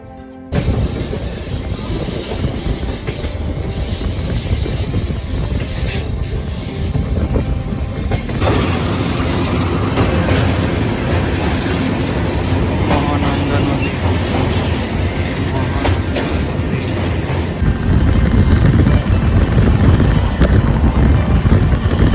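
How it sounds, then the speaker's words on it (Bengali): Uttar Banga Express passenger train pulling into Aluabari Road Junction station, a loud continuous rumble and rattle of wheels and carriages with wind buffeting the microphone, growing heavier toward the end. "আমাদের উত্তরবঙ্গ এক্সপ্রেস আলুয়া বাড়ি জংশন স্টেশনে ঢুকে পড়ল তার নির্ধারিত সময়ে"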